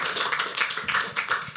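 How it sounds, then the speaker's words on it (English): A conference audience at a livestreamed tech event applauds a speaker, a short, steady wash of many hands clapping at moderate loudness throughout. "Round of applause for Erik."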